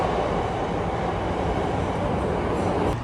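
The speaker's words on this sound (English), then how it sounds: "We're in the Chicago subway." Chicago subway train in a station: a loud, close, continuous rumble of rail cars, dense and steady throughout.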